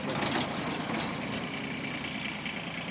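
A Kubota GB130 mini tractor with a 110 cm rotary tiller runs steadily at a distance, its engine a continuous low, even drone with a rough mechanical texture and no voices over it.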